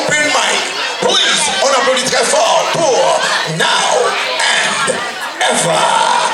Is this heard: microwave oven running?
no